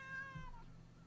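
A cat gives one clear meow with a slowly falling pitch over a steady low hum, close and fairly loud, with no talking.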